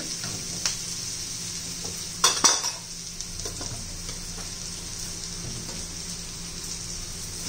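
Masala, turmeric and onion-garlic spice being stirred into leftover chapati noodles in a pan, giving a soft steady sizzle with scraping spoon strokes and a couple of sharper clinks of utensil on metal midway.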